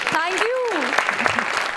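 An audience on a Marathi comedy show claps in a brief burst of applause, heard beneath a loud, close voice that is speaking over it.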